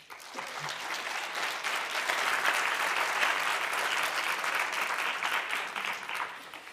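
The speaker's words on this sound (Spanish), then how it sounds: "Un aplauso." A festival audience at a technical panel session in Vitoria-Gasteiz breaks into loud, sustained applause that swells over the first two seconds, holds steady and tapers slightly toward the end, with crowd noise mixed in.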